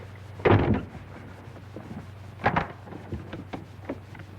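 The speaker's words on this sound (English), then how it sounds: "Close the door." A train compartment door shuts with a sharp thud, followed two seconds later by a second knock and a few lighter rattles nearby.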